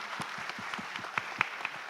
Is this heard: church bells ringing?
no